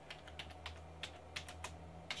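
Keys tapped on a computer keyboard in a short, uneven burst of distinct clicks, close and clear over a low steady hum, with no voices.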